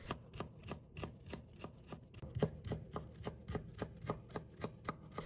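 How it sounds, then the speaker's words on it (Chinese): A knife chops peeled fresh ginger on a board, cutting it into slices and slivers in a quick, steady run of close, crisp taps, about three per second. "再准备1块去皮的生姜，把它切成片。 再切成丝，"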